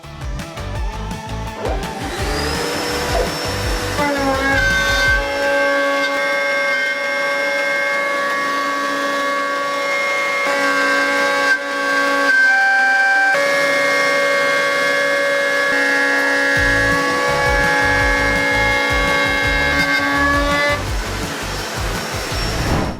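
A router cuts a quarter-inch-deep juice groove into a wooden cutting board, its loud, high motor whine spinning up, holding steady through the pass, then winding down, with rough cutting noise at the start and end.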